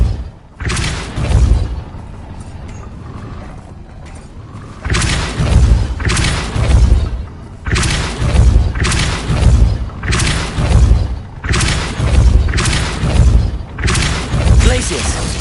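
Depulso spell cast repeatedly in the video game Hogwarts Legacy, a series of loud, booming thuds and whooshing blasts arriving in rhythmic bursts roughly every second, close and forceful, with a brief quieter lull early on.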